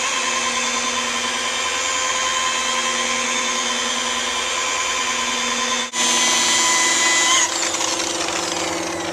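A power polisher works metal during a restoration, giving a loud, steady whine that runs without a break. It shifts pitch slightly partway through and continues alone with no talk.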